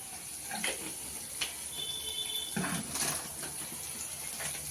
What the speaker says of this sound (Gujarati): એમાં થોડુંક પાણી નાખશું